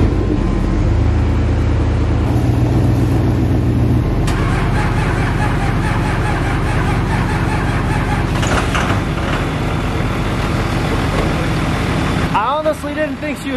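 Red truck engine starting in a work shop: a cranking churn that catches and fires into a loud, steady running engine that keeps going for several seconds before cutting off abruptly, with a voice near the end.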